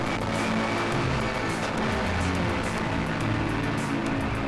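Onboard a Porsche GT3 Cup race car at Brands Hatch, the engine roars loud and continuous, with the pitch rising and falling through gear changes, heard close from inside the car.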